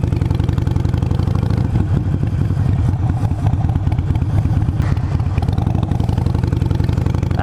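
Wind rushing over a motorcycle helmet mic while riding, a steady loud roar mixed with the motorcycle engine's continuous drone, close and unbroken throughout.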